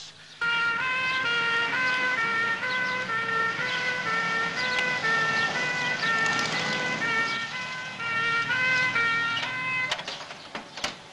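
A loud ambulance siren with steady, repeating tonal notes blares continuously, close by, with some traffic and noise around it, fading near the end.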